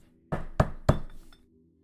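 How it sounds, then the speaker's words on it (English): Three firm knocks on a door, spaced evenly and close, each a solid thud with a short ringing tail, then silence. "There is a knock at the door."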